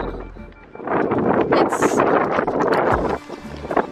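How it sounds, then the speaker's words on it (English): Strong gusts buffet the microphone in heavy rumbling bursts, a loud, steady roar with a brief lull before the wind surges again. "It's so windy."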